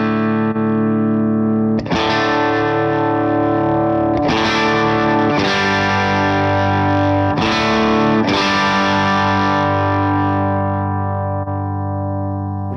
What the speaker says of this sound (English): when you bring up this boost control, it's going to be an EP3 style preamp